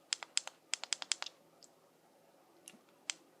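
Sharp clicks from the button of a Vision Spinner II vape battery, a quick run of about eight close, crisp presses followed by a few softer isolated clicks, near and alone.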